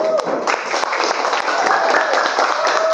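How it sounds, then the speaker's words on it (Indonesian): Classroom applause from high school students in Jambi, Indonesia, a continuous close burst of clapping filling the whole stretch, with voices faintly under it. "Terima kasih, tepuk tangan."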